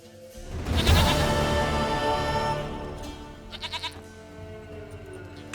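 Goat bleating in The Witcher 3 video game, a loud rising bleat over the game's music, followed by a few shorter pulsing bleats near the end.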